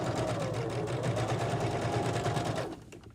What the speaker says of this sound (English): Then turn it around and do the other side. Remember to backstitch.